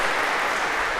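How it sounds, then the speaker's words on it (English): Brief burst of steady audience applause in a university computer science lecture hall, a dense even patter of many hands clapping at moderate volume. "All right, a big round of applause."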